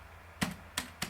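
Three sharp key presses on a computer keyboard while a command is typed at a Windows prompt, spaced apart and fairly close, over a quiet room hiss.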